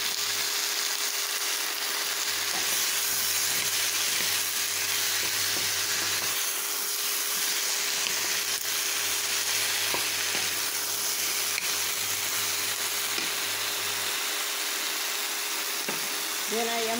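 Eggplant frying in a pan for a Filipino beef curry with coconut milk, giving a steady broadband sizzle throughout with a low electrical hum and a few faint clinks of stirring.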